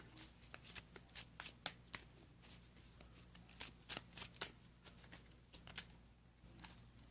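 Playing cards being shuffled by hand at a Pokémon card game battle with Kyurem decks, a run of crisp riffling bursts in irregular clusters, close and fairly quiet, with no talking.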